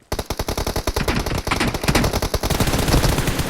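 Rapid automatic gunfire in the video game PUBG, loud and close, with bursts of shots running into nearly continuous fire for several seconds.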